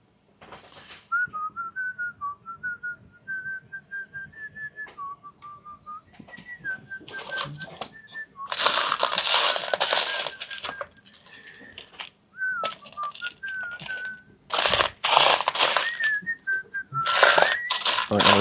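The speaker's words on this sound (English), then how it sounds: "I'm going to stop whistling because it's very loud in the microphone" A person whistles a wavering melody close to the microphone, phrases broken by bursts of loud clattering and rustling noise.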